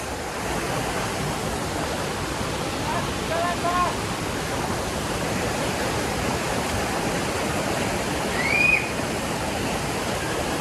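A river rushes steadily near a jungle waterfall, a broad, continuous roar of flowing water heard close and even throughout, with a couple of faint bird chirps above it.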